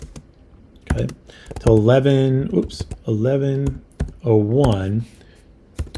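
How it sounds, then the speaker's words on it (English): Rapid keyboard clicks and clacks sound close by, scattered between bursts of someone speaking over them. "Gosh, sorry, I'm typing."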